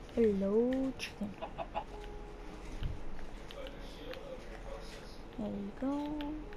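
A Minecraft chicken gives short clucking calls at the start and again near the end, moderately close, over low game ambience with a brief thump in the middle.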